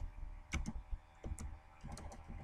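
Keys tapped on a computer keyboard in bursts of quick, close clicks with short pauses between, while a text description is typed into Google Translate.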